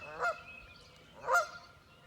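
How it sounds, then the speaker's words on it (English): Two geese near a shoreline give two separate loud honks about a second apart, nasal and clear against a quiet background. "So, Mama Goose and Daddy Goose are upset because they want to come to shore"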